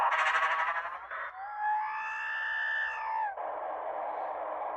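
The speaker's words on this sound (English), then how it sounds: "that's R2 shrieking." A LEGO Star Wars R2-D2 toy emits a shrill electronic shriek, rising and sweeping tones lasting a couple of seconds, bracketed by bursts of buzzy electronic noise.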